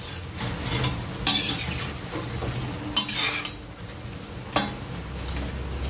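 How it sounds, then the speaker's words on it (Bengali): Onion fritters (piyaji) sizzle in hot oil in a kadai during a third frying, with steady crackling and a few sharp stirring scrapes and clinks against the pan. "তৃতীয়বার ভেজে নিচ্ছি।"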